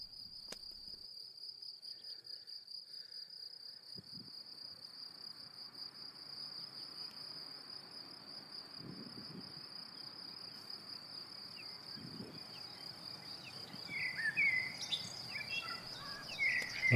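A steady, high-pitched trill of crickets and grasshoppers in a farm pasture carries on throughout, with faint birdsong joining near the end over quiet outdoor ambience.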